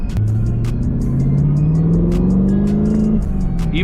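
A 2023 Chevrolet Camaro LT1 with a six-speed manual revs hard while accelerating, its loud, close engine note climbing steadily in pitch through a gear for about three seconds before briefly dropping.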